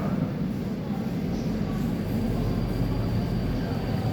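At Suwon station, a non-passenger train rolls through the platform with a steady, close, low rumble that holds evenly throughout.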